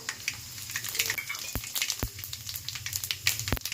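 Mustard and cumin seeds sizzle in hot oil with sharp, scattered popping crackles over a low frying hiss, close and fairly loud, with no voices.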